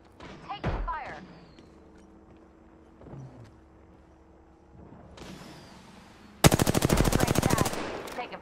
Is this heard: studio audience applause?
no